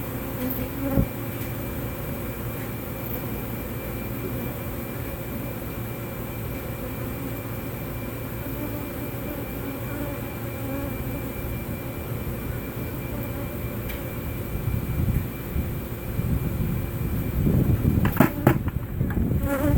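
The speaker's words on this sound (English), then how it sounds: "So yes, a lot of them are airborne." A dense swarm of airborne honeybees during removal from a mobile home in Lakeland, Florida, fills the air with a steady, close, continuous buzz that swells louder and busier toward the end.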